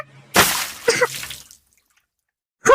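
Water splashes and pours in two close bursts indoors, then stops to silence before another splash begins; no one speaks.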